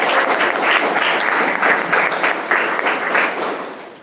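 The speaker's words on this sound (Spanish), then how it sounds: "les pido un aplauso para recibirlo" Applause from an audience greeting Guillermo Ramadán at a political talk in Mendoza, a steady dense wash of many hands clapping that holds for about four seconds before tapering off.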